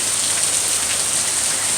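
Steady rain pours on a morning in Mississippi, a loud, even wash of dense drops striking surfaces nearby without any break. No one speaks over it.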